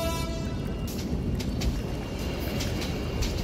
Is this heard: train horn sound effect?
yes